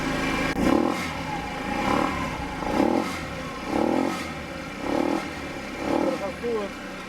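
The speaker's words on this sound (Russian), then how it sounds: "Так, ну вот я снял воздушный фильтр, завел скутер, и скутер начал работать стабильно. Сейчас попробуем погазовать." Scooter engine running with its air filter removed, revved in a steady series of about six rising-and-falling throttle blips, loud and close, with no voices.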